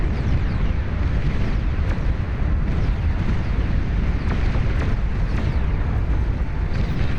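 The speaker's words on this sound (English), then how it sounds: "Another big explosion over here." Dense, continuous rumble of explosions and weapons fire in a Beyond All Reason 8v8 deathmatch battle, with sharp blasts punctuating a loud, steady wall of game combat noise and no talking.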